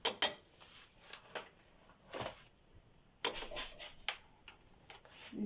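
A spoon clinks against a bowl while measuring sugar for soy and ketchup chicken wing sauce, scattered light taps and scrapes, quiet and close, with no talk.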